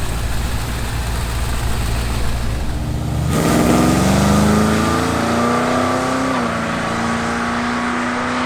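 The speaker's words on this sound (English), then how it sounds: "this is the first time cars are going down this new surface" A car makes the very first pass down a newly resurfaced S.R.C.A. drag strip, its loud engine note rising steadily as it accelerates away, heard alone without talk.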